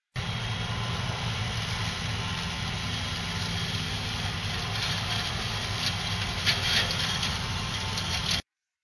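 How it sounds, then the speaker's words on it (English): A T-Rex slope mower running steadily over grass on a slope, a continuous loud engine drone with a constant low rumble that holds evenly throughout, briefly swelling near the end before cutting off. "The T-Rex was able to mow the entire area in about 7 minutes."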